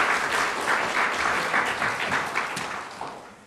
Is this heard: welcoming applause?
yes